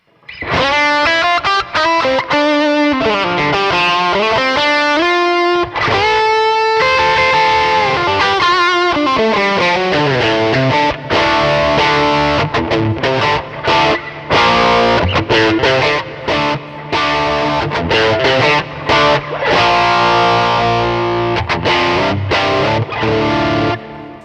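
An electric guitar through a boost pedal into a Kemper amp plays a continuous riff with thick, gritty distortion, loud and upfront with no voices.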